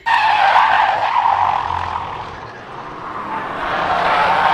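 Race car skidding through a turn while understeering, a loud continuous tire scrub and skid with engine noise, sustained throughout with a slight dip in the middle before swelling again.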